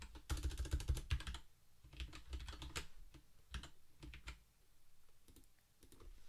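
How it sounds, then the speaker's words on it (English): Rapid typing on a computer keyboard at close range, a dense run of clicking keystrokes in uneven bursts with short pauses, no voices. "Great typing skills here."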